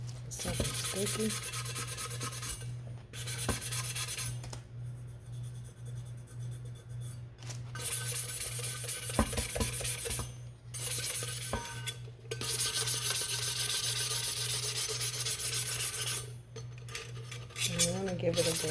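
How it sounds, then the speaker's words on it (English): Repeated scratchy rubbing strokes of sandpaper against a hard resin tumbler, bursts of rasping separated by short pauses, close and fairly loud. "I want to give it a good sanding."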